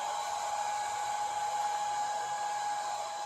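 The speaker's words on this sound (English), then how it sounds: "I do have, this is a regular heat gun." A regular heat gun blows hot air while warming wood-grain accent trim for a Triumph Spitfire dash, giving a steady, continuous whooshing whir with no other sounds.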